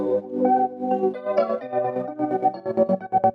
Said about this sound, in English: There's certain parts of the song where I have a transgate effect.